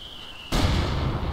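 A sudden loud blast in the World War II strategy video game Company of Heroes 2, cutting in after a faint steady tone and leaving a broad rumbling roar that lingers.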